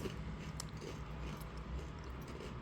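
Someone chewing food late at night during Eid, with soft, close, continuous moist munching and occasional crunchy bites over a low background hum.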